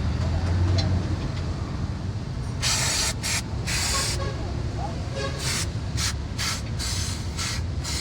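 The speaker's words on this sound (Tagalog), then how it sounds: "So ito ay sprayan ko lang ito ng panlinis bago natin lagay yung pinaka oil seal" Cleaner sprayed onto an engine part of a 2017 Toyota Vios dual VVT-i before an oil seal is fitted: a series of short, sharp hissing spray bursts, close and loud, over a steady workshop background.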